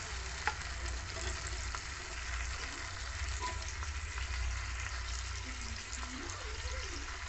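Boiled soybean chunks fry in an oily spice masala in a pan, giving a steady, soft crackling sizzle that carries on evenly throughout at low volume.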